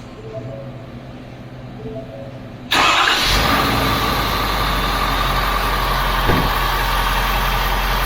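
A diesel engine cranks and catches abruptly after a few seconds of quiet, then settles into a steady, loud idle with a broad rumble that fills the rest of the clip.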